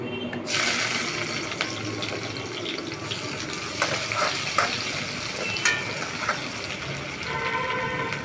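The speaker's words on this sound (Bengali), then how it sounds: "পেঁয়াজটা ভেজে নিচ্ছি।" Onions frying in a pan with spices, giving a steady, fairly loud broadband sizzle and crackle that continues without pause, with scattered small pops and faint kitchen clatter and no voices.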